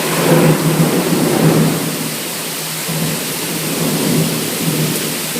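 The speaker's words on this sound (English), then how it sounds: "The rain has started once again." A heavy rainstorm makes a loud, steady wash of rain with low thunder rumbling under it. No one speaks.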